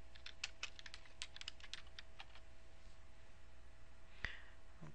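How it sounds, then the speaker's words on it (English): Quick computer keyboard typing, a rapid string of light clicking keystrokes in the first half, followed by a pause and then one isolated key tap, all fairly quiet with no talking. "by typing in Alice Walker, nothing appears"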